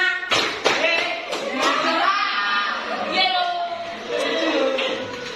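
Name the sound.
children clapping hands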